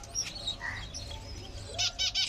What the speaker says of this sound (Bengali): এরা হচ্ছে আমার বাসার মুনিয়া, আর এরা হচ্ছে ফিন্স পাখি।